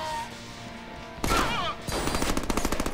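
Shotgun blasts in the Deadpool video game: after a quiet start, a loud sharp burst lands, followed by a rapid string of repeated shots close and dense, with no talk over them.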